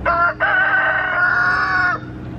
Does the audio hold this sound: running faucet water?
no